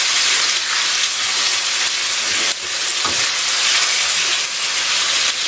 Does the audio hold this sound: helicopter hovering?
no